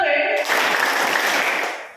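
Crowd of people applauding together in a hall, a dense burst of clapping that swells quickly and fades out over about a second and a half, with no distinct separate claps audible.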